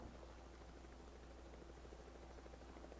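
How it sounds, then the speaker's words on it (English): A helicopter flying overhead in the video game Project Zomboid produces a steady, broad rotor drone that holds level and unbroken throughout, fairly faint and distant with no voices over it. "There's that helicopter again."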